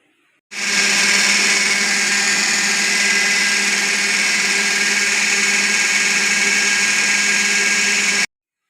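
Kitchen blender whirring steadily while it blends mango juice with milk and ice, a loud close drone that starts abruptly, runs about eight seconds at even strength and then cuts off, with no talking.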